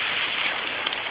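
Warm summer rain in a forest, a steady dense hiss of falling drops on leaves and ground, close and constant through the short stretch.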